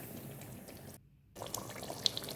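Hot water streams into a pan of frying Tunisian pasta sauce, a steady close splashing and sizzling hiss with a short gap, then resuming with small pops and crackles.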